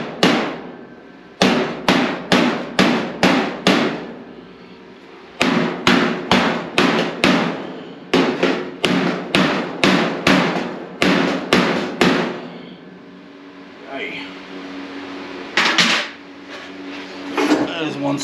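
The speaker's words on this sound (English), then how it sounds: "then just start hammering this out by hand" A car fender is hammered out by hand in quick runs of sharp, ringing metal blows, several fast bursts separated by short pauses, close and loud.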